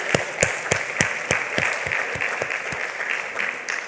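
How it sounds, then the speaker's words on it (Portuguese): A church congregation claps after a call to praise Jesus Christ, starting as sharp, rhythmic unison claps at a steady beat and then loosening into a broad, sustained round of applause. "Cadê aquela salva de palmas para o nosso Senhor Jesus Cristo?"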